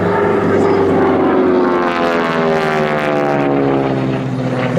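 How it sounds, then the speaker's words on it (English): A North American T6 Texan flies aerobatics at an air show, its propeller engine a loud, sustained drone whose pitch slides downward as it passes, strong and near for the whole stretch. "He's flying a North American T6 Texan."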